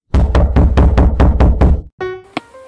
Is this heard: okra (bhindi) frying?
no